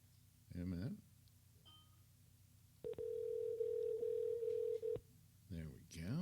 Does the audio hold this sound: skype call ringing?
yes